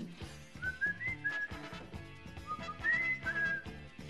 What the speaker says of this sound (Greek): Τι σφυράς, παιδάκι μου.